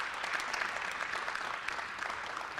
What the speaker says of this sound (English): Could we applaud these folks for everything that they're doing?